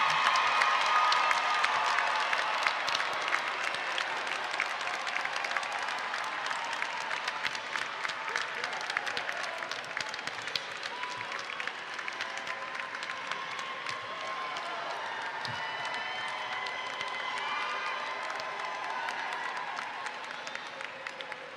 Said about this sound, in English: Please join us in a round of applause for the graduates of